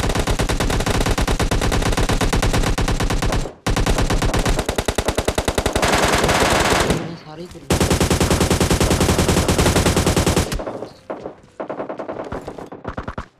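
Rapid automatic gunfire from PUBG Mobile Lite gameplay rattles in long, loud bursts, broken by brief pauses and fading into scattered shots at the end.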